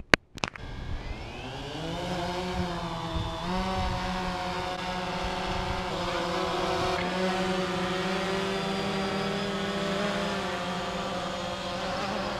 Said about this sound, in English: we are going to fly and intercept this drone as it's in mid-flight